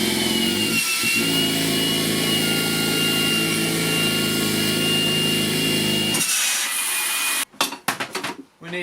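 Makita 40V CL001G stick vacuum runs steadily at a loud, close whine while sucking up a boxful of wood pieces, then cuts off near the end with a few clattering knocks.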